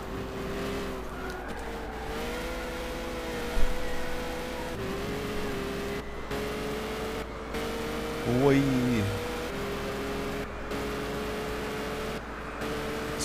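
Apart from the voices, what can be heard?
Peugeot 908 race car engine in Gran Turismo 6 video game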